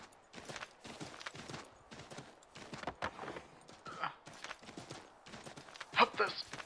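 Horse hooves clip-clop in Assassin's Creed 3 gameplay, a quick steady trot of repeated thuds heard under ongoing talk, with a brief brighter clatter near the end.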